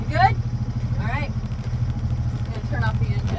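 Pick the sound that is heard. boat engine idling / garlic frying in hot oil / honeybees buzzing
boat engine idling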